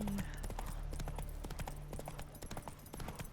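Roach the horse clip-clops along a dirt road in the Witcher 3 video game, a steady close run of hoofbeats with game music and ambience underneath.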